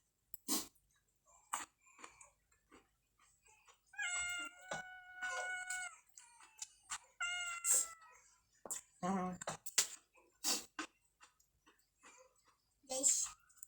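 A pet cat meows several times outdoors behind a house, short drawn-out cries spread across the stretch between quiet gaps, with some scattered clicks and faint background sounds.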